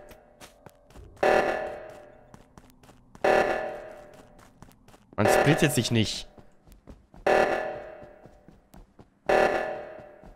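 Repeating alarm blasts in the video game Among Us, five loud pulses about two seconds apart that each decay, with someone talking between and over them.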